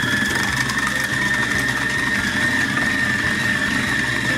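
A Kitchencook Cuisio kitchen robot runs at speed 5 while mixing choux pastry dough at 40 degrees, a steady close motor whir with a rhythmic low pulsing churn and a constant high whine, no talk.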